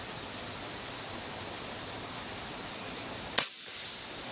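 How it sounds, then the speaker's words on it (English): A single sharp crack from a power-tuned Benjamin Marauder .25 air rifle, loud and close, after a steady hiss of background noise, with a brief decay afterward and no talk. "You get a good 15 shots out of this with the power tune."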